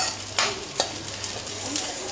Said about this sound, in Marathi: आता डिंक हो तुपावर चांगलं फुलवून घेऊया।